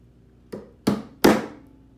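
Three close, solid thunks of a chisel struck with a mallet as it chops a mortise in wood by hand, each strike louder than the last, about a third of a second apart.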